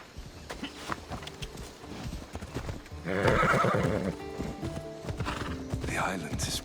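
Horse hooves clip-clop at a walking pace in Assassin's Creed Odyssey, close and steady, with a loud whinny near the middle and character voices talking over the riding.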